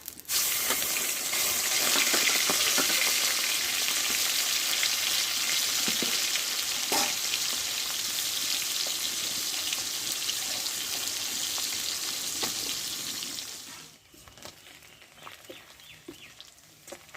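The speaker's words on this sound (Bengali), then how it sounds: "এগুলো সব চর্বি চর্বিটা ভাজা হয়ে গেছে" Fish fat and fish oil frying in a pan of hot oil for a Bangladeshi pui shak dish, a loud steady sizzle with scattered crackles and stirring that fades out sharply near the end.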